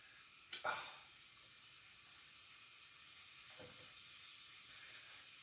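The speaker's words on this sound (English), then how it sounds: "Let's get a wooden spoon out. Give those a stir." Onions sizzle softly in a pan as a wooden spoon stirs them, with a sharp scrape near the start and a quieter one later over a faint, steady hiss.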